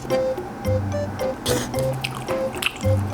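Fish sauce poured from a convenience-store packet onto a scallop seafood noodle dish, giving a few short wet drips and squishy liquid dribbles in quick irregular bursts, close and fairly loud, with no talk.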